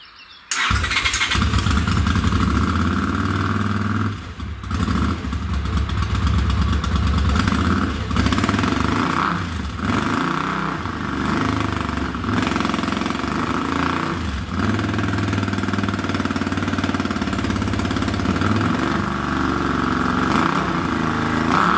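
A cafe racer motorcycle engine cranks and fires, then settles into a loud, steady idle through its exhaust with a few throttle blips, close up and with no talk.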